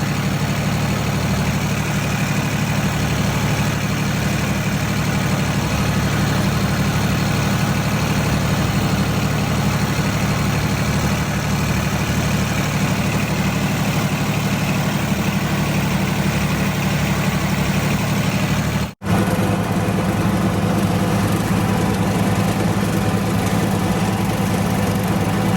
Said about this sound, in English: Now that we got that tractor shut off, that brush cutter, I know that was kind of loud